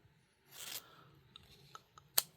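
Scissors cutting pieces of craft material for Christmas cluster embellishments, a quiet crisp snip sequence with a longer rasping cut early on and a few short sharp snips later, close and alone.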